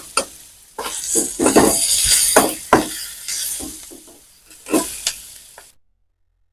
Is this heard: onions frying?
yes